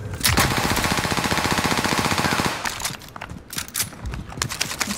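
Rapid automatic gunfire in a video game, a loud sustained burst of evenly spaced shots for about two and a half seconds, followed by scattered single shots and game sounds.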